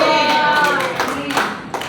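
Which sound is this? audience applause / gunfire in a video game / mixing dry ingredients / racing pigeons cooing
audience applause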